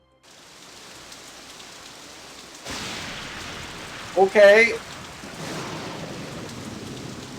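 Steady rain with rumbling thunder around a Victorian mansion in San Francisco in a Nancy Drew video game, the downpour swelling louder partway through, with a brief spoken word over it.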